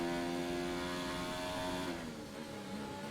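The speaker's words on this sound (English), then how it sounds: "Cars definitely sound a lot better than what they were when the hybrid era first came in." Formula 1 car engine in the video game F1 2019, a loud steady high-pitched whine holding constant and then dipping slightly as the car lifts off, close and alone.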